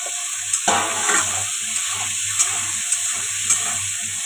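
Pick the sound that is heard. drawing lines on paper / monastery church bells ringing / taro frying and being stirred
taro frying and being stirred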